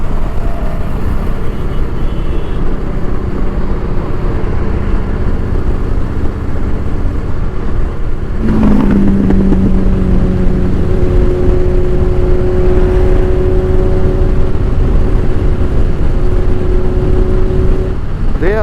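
Ducati motorcycles ride close by on a road, a loud, continuous engine roar with a rising whine that sweeps past midway and a sustained high-pitched tone afterward.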